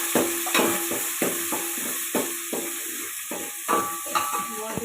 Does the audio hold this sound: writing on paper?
no